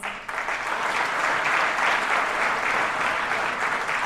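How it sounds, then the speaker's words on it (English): Steady, full applause from a crowd, sustained clapping that fills the space evenly for several seconds after a brief quiet start. "let's give them a round of applause"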